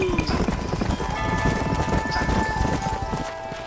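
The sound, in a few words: horses galloping in video game Red Dead Redemption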